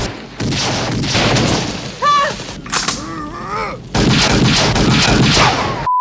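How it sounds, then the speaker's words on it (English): Gunshot and cannon sound effects from the Indiana Jones film, loud repeated booming blasts and bursts mixed with movie soundtrack and brief voice-like sounds, dense and forceful throughout. "Then the gunshots."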